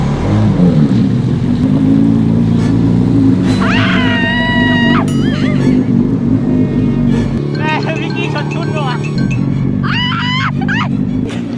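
Jet ski engine revving loud and close on open water, a steady low drone that dips partway through, with high whistling squeals and people talking over it.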